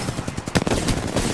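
Gunfire in the video game Apex Legends, a rapid burst of close, punchy shots fired in quick succession over dense in-game background noise.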